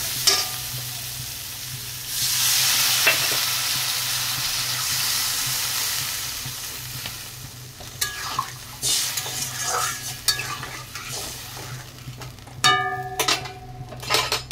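Spiced mango sizzling in a frying pan as water is poured in, a loud hiss and sputter that settles into softer bubbling, followed by scattered clinks of a spoon against the pan.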